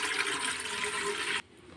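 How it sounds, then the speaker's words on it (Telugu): Water poured into an idli steamer pot, a loud continuous rushing gush that cuts off abruptly near the end, close by with no talking. "ఇక్కడ దాకా వాటర్ పోసుకోవాలి."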